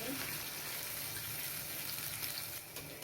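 Ground chili stirred and frying in a pan for telur balado, a steady soft sizzle with faint scraping of the spoon, fairly quiet and close throughout.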